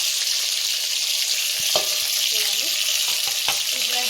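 Cumin, mustard seeds, green chillies and onions frying in a pan, a steady close sizzle with faint scraping of stirring and a few small pops.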